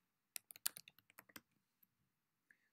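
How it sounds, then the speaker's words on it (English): About a dozen quick keystrokes are tapped on a computer keyboard while an IP address is entered, a close, quiet clatter followed by a few isolated clicks. "So we're using just any kind of browser and typing in the IP address"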